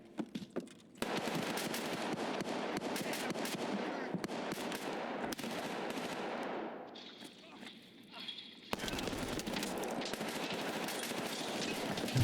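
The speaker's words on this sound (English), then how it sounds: "Lots of shooting." Gunfire in the Escape from Tarkov SPT video game, rapid bursts of automatic shots and single cracks packed densely across the clip, loud and close, with a brief lull before the firing resumes.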